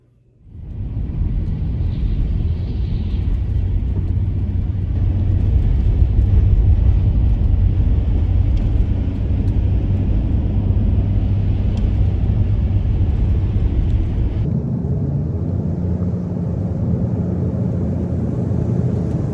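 Steady interior rumble of a car driving on the road, a continuous low engine and road drone that holds evenly throughout with a slight shift in tone near the end, no talking.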